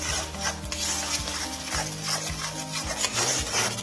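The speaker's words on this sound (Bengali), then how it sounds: "ভালো করে নাড়াচাড়া করে মিশিয়ে নিতে হবে।" Pea mixture for koraishutir kochuri being stirred and mixed, giving continuous close rubbing and scraping strokes in an even back-and-forth rhythm, fairly loud with no talk.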